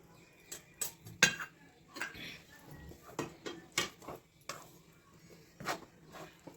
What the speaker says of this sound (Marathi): असं पीठ सारखं हलवत राहायचं, नाही तर काय होतं, जळतं खाली.